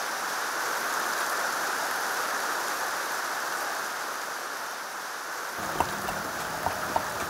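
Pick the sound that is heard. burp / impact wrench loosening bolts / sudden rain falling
sudden rain falling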